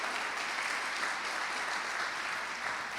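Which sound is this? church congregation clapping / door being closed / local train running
church congregation clapping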